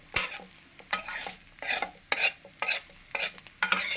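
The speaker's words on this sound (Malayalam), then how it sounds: "ഓക്കെ, നന്നായിട്ട് മിക്സ് ചെയ്യും" A spoon stirs Kerala fish pickle masala with Kashmiri chilli powder in a pan, about seven distinct scraping strokes in an uneven rhythm, close and fairly quiet, each with a faint sizzle.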